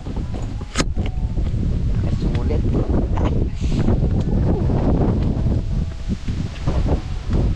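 Strong wind buffets the microphone on Seven Star Mountain in Yangmingshan, Taipei, a loud, continuous roar with gusty swells, while a voice speaks briefly over it.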